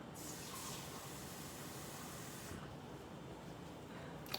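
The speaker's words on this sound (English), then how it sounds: "I'm going to put 1/2 cup of water" Half a cup of water pours into a pot of rice cooking in broth, a steady faint gushing splash that eases off partway through.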